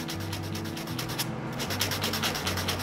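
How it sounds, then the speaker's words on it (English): Hand sanding on a hardwood floor board to blend the edges of a dent, quick repeated scratchy strokes heard close and alone at moderate volume. "what you can do is you just sort of sand it a bit"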